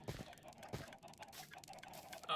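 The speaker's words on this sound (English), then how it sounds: "This is a little cooked chicken farm" Chickens on a Minecraft chicken farm cluck faintly in short, irregular clucks amid low background noise.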